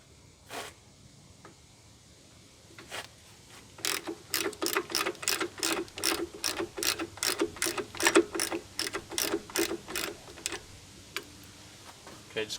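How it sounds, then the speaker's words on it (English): A ratchet wrench loosening bolts on a Jeep XJ power steering pump, rapid sharp metallic clicking in quick bursts after a few scattered early clicks, close and distinct over a quiet garage background. "then we'll loosen up these 3 bolts through here, and then we'll be able to take off the power steering pump"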